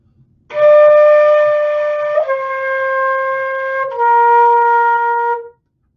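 Three flute notes played in one unbroken stream, each sliding into the next without any pause, stepping down in pitch before fading out.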